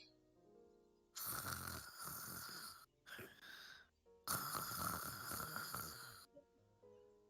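A voice imitates snoring in two long, drawn-out rasping breaths separated by a short pause, close and fairly loud against an otherwise quiet background.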